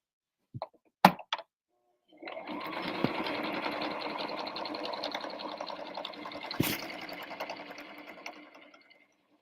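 A sewing machine stitches a denim bag with tassels, running in one steady rapid buzz for about six seconds after a few sharp clicks and bumps from handling, close and clear.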